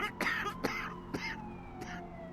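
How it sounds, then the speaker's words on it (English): A plague-sick character in the Vampire: The Masquerade – Bloodlines video game coughing, four or five harsh hacking coughs in close succession over a low game ambience with a faint tonal whine. "That coughing is so realistic it makes me want to cough because it feels contagious"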